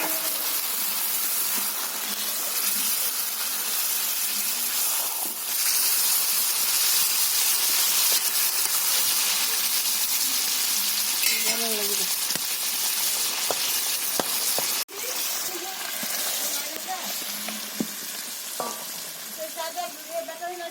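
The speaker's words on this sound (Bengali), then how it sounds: "আমি তরকারিতে মাছটা দিয়ে দিচ্ছি।" Fish frying in curry in a pan in a village home kitchen, a steady dense sizzle and hiss that runs throughout, with a few soft stirring clicks and knocks.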